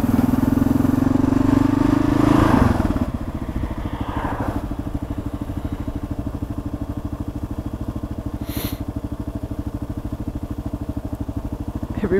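A motorcycle waits at a red light, its engine throbbing steadily at idle after a brief louder rev at the start, a close, even low rumble continuing alone throughout.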